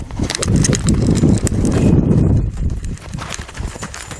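A horse's hooves clop steadily as it travels in a circle on a lariat line during first-day groundwork with a new horse, a busy patter of close footfalls with a brief quieter stretch near the middle.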